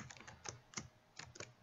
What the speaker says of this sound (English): You can just listen to the tapping of my keys.